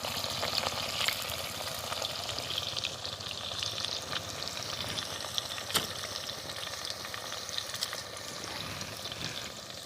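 Onions fry in oil inside a clay pot, a steady close sizzle with crackling spits and occasional stirring scrapes throughout, no voices over it.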